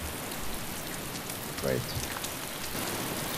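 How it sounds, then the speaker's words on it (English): Steady heavy rain pattering on surfaces in the video game DayZ, a constant dense hiss throughout, with someone briefly speaking over it. "Into the building and let's wait out the rain."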